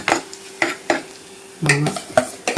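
Onions frying and being stirred in a pan of coconut oil while cooking a fish curry, with several distinct scraping stirs and a soft sizzle, a few in quick succession near the end.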